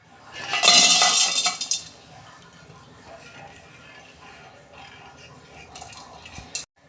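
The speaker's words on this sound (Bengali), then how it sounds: "এই যে বড় এলাচ, জায়ফল, জয়িত্রী, ডালচিনি আর সামরিচ আমি শুকনো খোলায় একটু নেড়ে নেব।" Whole spices (black cardamom, nutmeg, mace, cinnamon and peppercorns) being dry-roasted in a pan for aloo dum, with a loud burst of clinking and rattling near the start, then quieter scraping and shuffling, no talk.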